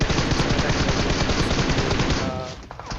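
Rapid automatic gunfire fills a battle royale video game, a dense loud burst of repeated shots that eases off near the end, with no voices.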